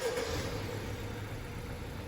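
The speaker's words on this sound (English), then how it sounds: "Car turned on." A 2018-2021 Honda Accord engine fires up via remote start, settling into a steady low idle hum that holds evenly throughout, with no talking.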